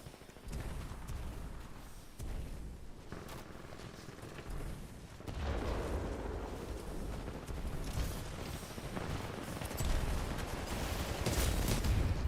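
Sustained automatic gunfire from a zero-recoil weapon in a video game, a dense continuous stream of shots with booming impacts, loud and unbroken throughout.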